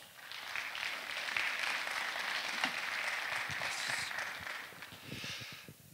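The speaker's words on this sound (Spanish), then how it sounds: "fuertísimos aplausos" An audience at a university anniversary ceremony for an agronomic engineering school bursts into warm, sustained applause. Dense clapping fills the hall evenly and eases slightly toward the end.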